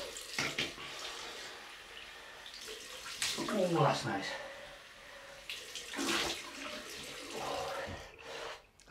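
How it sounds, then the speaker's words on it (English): Tap water runs for a cold rinse during a wet shave with a Gillette FatBoy double-edge safety razor and shaving soap, a steady hiss with splashing bursts under a man's brief remarks. "Cold water rinse."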